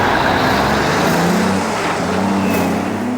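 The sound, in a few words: trucks passing through FDA checkpoint, Nogales, Arizona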